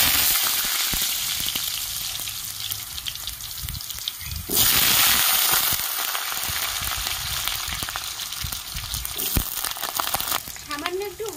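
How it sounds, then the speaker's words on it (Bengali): Potato pieces fry in hot oil with a steady, loud sizzle, flaring into a sharp hissing burst partway through, then settling back to a busy crackle with occasional stirring. "গরম হয়ে গেছে, আমি আলুগুলো ভেজে নিচ্ছি"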